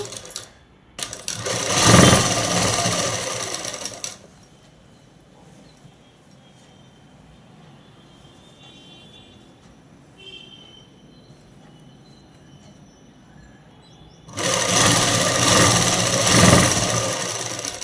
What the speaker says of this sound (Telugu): ఇప్పుడు స్ట్రైట్ కుట్ అనేది వేసుకుందామండి